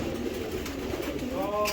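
A young female racing pigeon gives low throaty coos up close while someone talks over them throughout.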